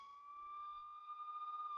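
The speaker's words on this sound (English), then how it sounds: "Suddenly, outside, they hear the sound of a siren. It is a police car." A police car siren sounds as a steady, fairly faint electronic tone, beginning to wail at the end, with no voices.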